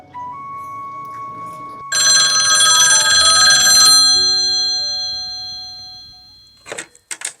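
A telephone rings for an incoming call on a group call-in show, a bright electronic trill that swells loudly for about two seconds, then decays as a faint tone, followed by a few short clicks near the end.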